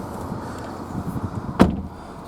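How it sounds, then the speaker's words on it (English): A Jaguar XF 2.0 diesel R-Sport car door shuts with one solid, close thud amid quiet background rustling. "I'll shut the door and then it runs through the system."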